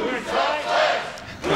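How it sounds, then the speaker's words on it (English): Crowd chanting in unison at the World Axe Throwing Championship 2020, a loud, swelling group chant with rhythmic surges and a brief dip before rising again. "The crowd favorite chant to figure out the eternal question."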